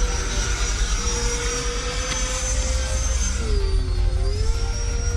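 The electric motor of a powerful RC plane running on a high-voltage flight pack screams at full throttle, giving a steady loud whine that bends in pitch as the aircraft passes, over constant rushing wind noise.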